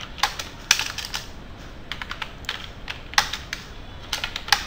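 A computer keyboard is heard while an email is typed, with quick irregular clusters of crisp key clicks and short pauses between bursts. The keys sound close against a quiet room, with no talk.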